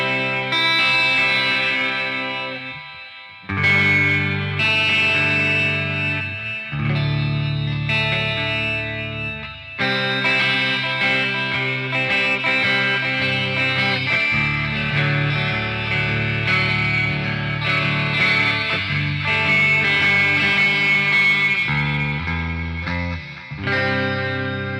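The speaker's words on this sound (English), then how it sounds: "So I've got chorus, delay, and reverb in the front this time." Clean electric guitar through an Ugritone Ampenstein Dual Retkifier amp plugin with chorus, delay and reverb, giving a shimmering, spacious sound, chords ringing out and trailing into echoes; no voices.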